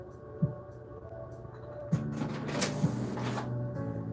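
A printer runs a certified letter indoors, giving a steady low mechanical hum with a few sharp clicks and a brief burst of whirring in the middle, and no one speaking.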